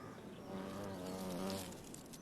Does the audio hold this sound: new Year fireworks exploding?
no